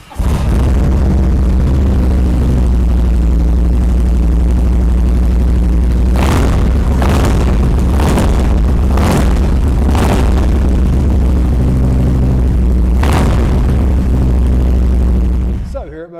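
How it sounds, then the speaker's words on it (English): A Harley-Davidson FXLRS Low Rider S Softail cruiser with a Stage 2 tune idles with a deep, loud, steady rumble, then gets several sharp throttle blips in a row and one more later before shutting off. "Let's fire it up and have a listen."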